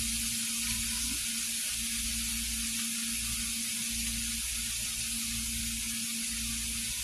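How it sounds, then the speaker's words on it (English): Onion starts to sauté in a soup pot for lasagna soup, a low, soft sizzle running steadily beneath a constant background hum. "I'm going to put some onion in it so it can start sauteing a little bit"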